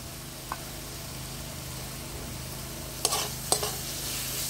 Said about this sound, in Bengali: ভালো করে এগুলো কষিয়ে নেব।